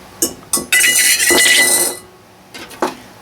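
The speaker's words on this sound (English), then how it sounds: "So that's the wire whisk, a handheld one" A handheld wire whisk is handled, giving several brief metallic clinks and rattles, with one sustained bright jangling burst in the middle, close and fairly loud, with no one speaking.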